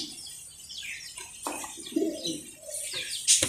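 Mundian pigeons at a pigeon farm give soft, throaty coos mixed with brief chirps, quiet and intermittent, with a faint flutter near the end.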